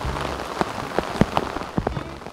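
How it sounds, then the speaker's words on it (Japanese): Heavy rain at Toyofusa Lake in Chiba, Japan, a dense hiss of drops with sharp nearby splats and taps landing on a surface at irregular intervals, no voices. "雨が強くなるばかりです。"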